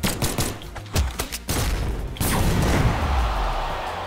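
Blaster weapons firing during a Brawlhalla match, a ragged volley of sharp shots in quick bursts, loud and close, then a sustained blast with rumbling low end; no one speaks.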